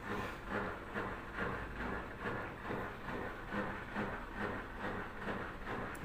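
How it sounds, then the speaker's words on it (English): A washing machine drain pump hums steadily while pumping out water, a constant mechanical drone with faint rhythmic pulsing and a hissy wash of noise, without any voices. "That's a humming sound from the drain pump."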